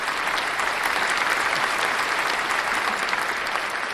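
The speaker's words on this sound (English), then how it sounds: "Then we might as well give that a round of applause for that one." An audience claps steadily during a crypto market presentation, a dense, even wash of applause held at a constant moderate level throughout.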